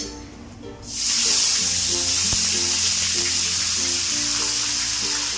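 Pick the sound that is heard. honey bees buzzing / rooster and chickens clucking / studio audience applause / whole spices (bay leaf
whole spices (bay leaf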